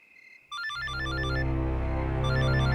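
A telephone rings with a bright, repeating electronic tone over a swelling dramatic music score in a Hindi horror drama scene.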